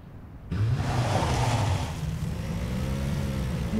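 A buggy engine in the video game PUBG roars up suddenly and keeps running steadily with a rough, rumbling drone, close and loud.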